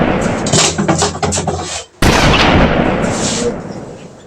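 Video game S.T.A.L.K.E.R. weapon fire: a rapid run of loud close shots, a brief cutoff, then a heavy blast with a long decaying echo.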